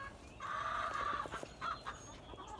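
Backyard chickens beside a coop under construction give a drawn-out cluck followed by shorter clucks, moderately close, over a low outdoor background on a chilly day.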